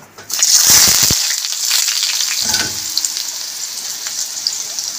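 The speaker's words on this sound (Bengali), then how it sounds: "তেল গরম হয়ে গেছে, জল ঝরা আলুটা দিয়ে দেবো।" Drained boiled potatoes dropped into hot mustard oil for French fries, a sudden loud hiss and bubbling burst followed by a steady, close sizzle with a few light clinks.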